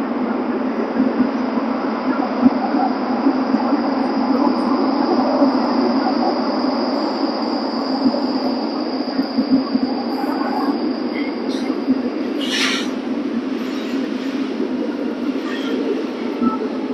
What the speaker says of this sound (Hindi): ये अपनी मेट्रो आने वाली है,